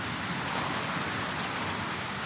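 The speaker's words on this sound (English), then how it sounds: "Just middle of the park. Raining." Steady rain falling in a park under power lines, a dense continuous hiss of drops filling the whole moment at an even, fairly loud level with no voices.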